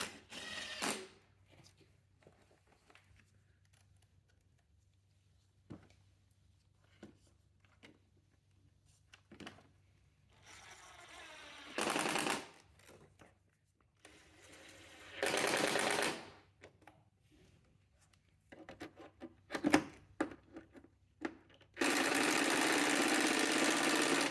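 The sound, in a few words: tightening four T25 screws on Tesla Model S fog light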